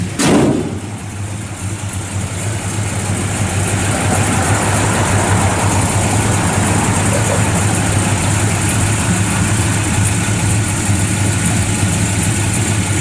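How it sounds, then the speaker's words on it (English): A 1956 Chevrolet 210 Bel Air with a mild-built 350 V8, headers and dual exhaust, settles into a steady, loud, close idle after a brief start-up burst, with a deep rumbling throb and no talk. "it's got a nice mild built 350 in it. Got a set of headers and duals. Fires right up."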